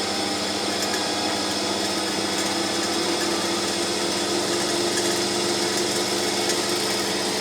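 Small metal lathe running at increased spindle speed while cutting, a steady, dense mechanical whine with constant level and faint harmonic hum, no voices over it.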